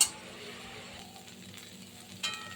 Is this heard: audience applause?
no